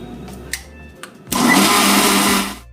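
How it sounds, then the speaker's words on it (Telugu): A kitchen mixie blender churns cream to make butter for homemade ghee, starting abruptly after a few clicks and handling sounds with a loud, steady whirring roar for about a second before cutting off. "ఇదండి మిక్సీ పెట్టేద్దాం"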